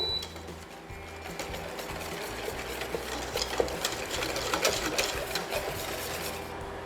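A steady stirring of a custard mixture of hot liquid and egg yolks, with a continuous scraping, clicking texture from the utensil against the bowl, close by with no talking.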